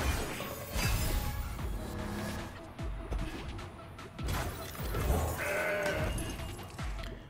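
A Mountain Goat card bleats in the digital card game Legends of Runeterra, a loud goat-like cry rising over busy game effects and music, with crashing impacts scattered through it.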